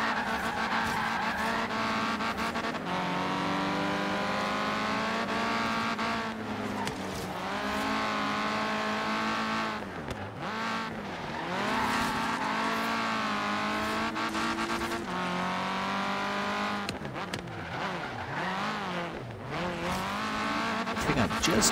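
Racing car engines roar and rev continuously in the video game Forza Horizon 3, with repeated gear shifts, pitch swoops and tire squeals through turns, loud and close throughout.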